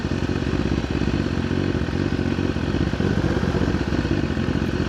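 A BMW S1000RR motorcycle cruising at moderate speed at night, its engine a steady, loud, continuous rumble with slight clattering texture throughout, no pauses.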